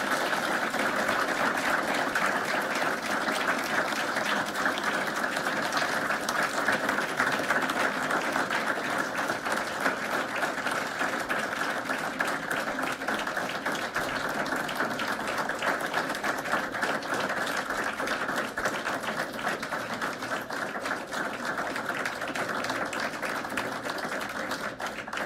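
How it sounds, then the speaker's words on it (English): Sustained audience applause at a board of education meeting, a dense, steady wash of many hands clapping at even loudness for a long stretch with no talk. "Let's give her a round of applause"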